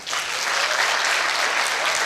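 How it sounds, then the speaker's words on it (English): An audience at a law school alumni homecoming and anniversary applauds loudly, a dense, sustained roar of many clapping hands that starts abruptly and holds steady throughout. "Can you clap for him?"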